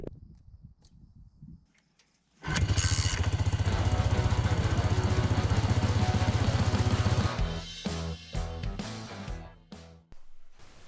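A Honda Magna VF700 motorcycle starts up after a fuel system flush and runs loud and close with a rough, even engine drone for about five seconds, then drops off into uneven revs and quieter clatter.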